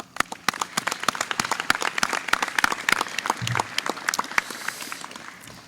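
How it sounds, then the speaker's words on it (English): Graduation audience applause, sparse and uneven, with individual claps standing out sharply. It is fairly close and continues for several seconds with no speech. "Give yourselves a big round of applause."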